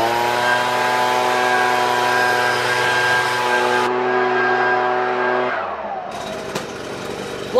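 A loud blower running at about 100 dB, a close, steady motor roar with a sustained whine that shifts pitch and then winds down near the end.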